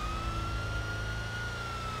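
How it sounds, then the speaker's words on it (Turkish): Police car siren in the GTA 5 video game, a steady sustained wail heard close and continuous under low engine and traffic rumble. "sireni duyuyorsunuz çekilmiyorsunuz"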